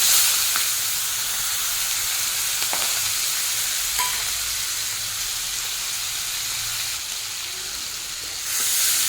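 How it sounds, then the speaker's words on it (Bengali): Onion paste frying in oil with halved green chilies while making a pomfret fish curry. A steady, hissing sizzle holds at moderate level with a few faint clicks of stirring. No voices. "পেঁয়াজের কাঁচা ভাব চলে যাওয়া পর্যন্ত ভেজে নিতে হবে"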